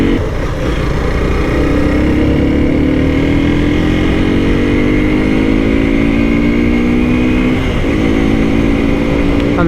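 A Hero Xtreme 200S motorcycle riding through early-morning traffic, its engine droning loud and steady close by, the pitch climbing slowly as it accelerates before dipping with a gear change, with constant wind rush throughout.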